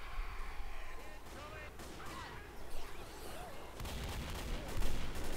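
Gunshots in Left 4 Dead, sharp reports and heavier bursts scattered through the stretch, with a voice talking over them.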